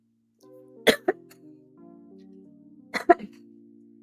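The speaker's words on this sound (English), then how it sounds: "See, he done got me coughing." Two short bursts of coughing, each a pair of sharp coughs, close and fairly quiet against a soft steady hum.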